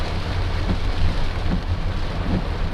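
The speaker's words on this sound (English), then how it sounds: "this rain came out of nowhere" A sudden rain shower pours as a dense, steady hiss of drops striking surfaces, loud and close, with a low rumbling undertone and no voices.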